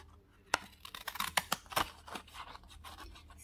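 Scissors snip through a small sheet of paper for a simple painting craft: a quiet run of short, crisp cuts and scratchy slides, irregularly spaced, with no talking.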